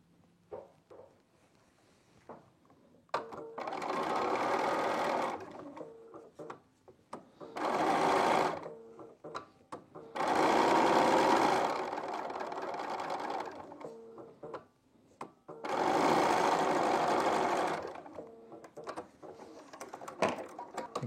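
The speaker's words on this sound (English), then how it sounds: "the next triangle on top, I'm sewing this on" A sewing machine stitches a fabric triangle onto a quilted postcard, running in four loud, steady bursts of rapid mechanical stitching separated by short pauses.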